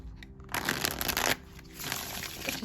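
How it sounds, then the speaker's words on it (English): A new, slightly stiff tarot deck is riffled twice in close succession, each a quick fluttering burst of papery flicks. "go ahead and give these a shuffle then."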